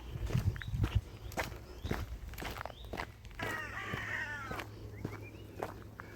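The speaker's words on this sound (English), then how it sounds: "There's like some crows having an argument about something." Several crows cawing back and forth in open countryside near a fishing pond, harsh calls in quick bursts over footsteps on a path, moderately close.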